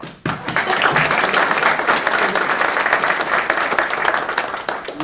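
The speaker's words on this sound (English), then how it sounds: "That's applause." Steady, dense applause from an audience at a college partnership announcement event, rising abruptly and holding at an even, loud level throughout with no talk over it.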